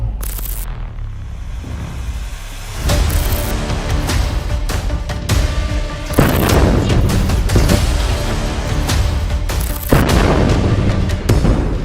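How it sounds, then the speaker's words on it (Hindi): Rocket fire and explosions in urban combat, with fighters launching rockets at a building held by soldiers: loud booming blasts recur every couple of seconds over a continuous harsh rumble. "हमास के लड़ाके दनादन रॉकेट फायर कर देते हैं।"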